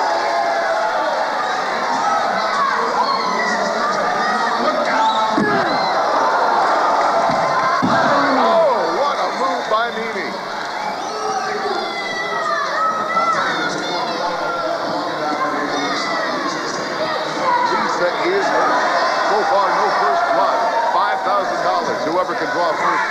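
A crowd roars and cheers continuously at a wrestling fight event, a dense wall of voices and shouts that never lets up, with commentary running over it.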